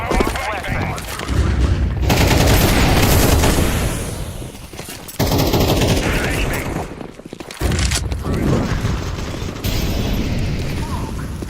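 Rapid gunfire bursts from the video game Counter-Strike 2 during a round, dense and loud across most of the stretch, with short gaps between volleys and player voices mixed in.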